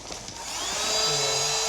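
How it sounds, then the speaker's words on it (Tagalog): A small portable vacuum cleaner spins up from quiet to a steady, close, high-pitched whine that holds at full speed. "It's a portable vacuum cleaner."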